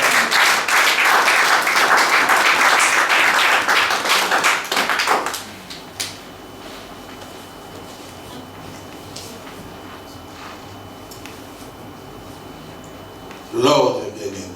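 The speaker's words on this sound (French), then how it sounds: "Est-ce que tu peux acclamer le Seigneur?" A French-speaking church congregation breaks into loud, dense applause and clapping for about five seconds, then it cuts off and a quieter room with a voice follows.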